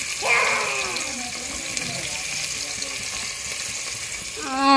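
Onion and green chilli drop into hot oil and fry with a steady, broadband sizzle throughout, a bright hiss that stays fairly even; a voice talks briefly over it near the start and again at the end.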